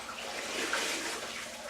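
A floor mop is rinsed out in water during floor stripping, making a brief, soft, quiet wash of sloshing water.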